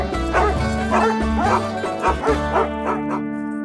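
Dogs bark in a rapid, repeated series of loud yips and bow-wows close by, with a few whimpering tones between them.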